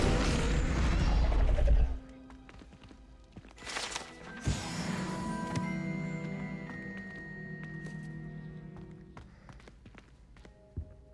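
Incendio fire spell cast in a video game: a loud roaring blast for about two seconds, then a bright whooshing flare followed by scattered thuds and soft clatter.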